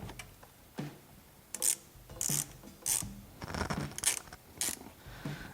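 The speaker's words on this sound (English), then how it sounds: "Then it's a 10mm socket for removing the terminal." Ratchet wrench fitted with a 10mm socket loosening a car battery terminal on a SAAB 9-5 New Generation, giving short bursts of close, crisp clicking strokes in an irregular rhythm, with quiet pauses between pulls.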